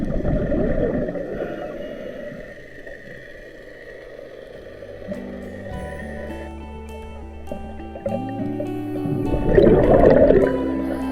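A boat's engine drones from above, heard underwater at 100 feet on an artificial reef wreck off Myrtle Beach, as shifting whining tones and a low hum, with a burst of bubbling gurgles near the end.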